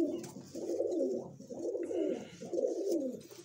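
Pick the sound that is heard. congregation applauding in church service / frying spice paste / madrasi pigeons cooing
madrasi pigeons cooing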